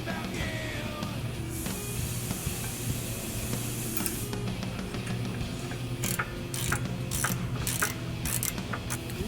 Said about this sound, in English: now I'm putting on the caliper bracket